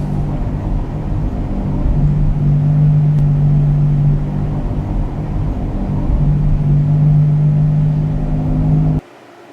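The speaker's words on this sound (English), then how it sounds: "That is a bad right front wheel bearing." Car with a bad right front wheel bearing, a steady loud droning hum and rumble with a low tonal whine that swells and holds for most of the stretch before cutting off abruptly near the end.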